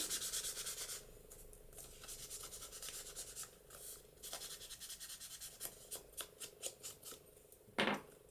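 Paper edges are inked with an ink pad for a junk journal pocket, producing quiet, close rubbing and scuffing strokes that grow into a quicker rhythmic series of short scrapes, ending with one slightly louder brush.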